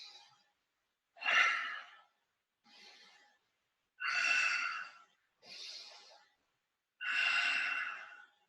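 Heavy, forceful breaths from the abdomen during Seiyunchin karate kata practice come in six separate bursts with pauses between them, some strong and some softer, close and without speech.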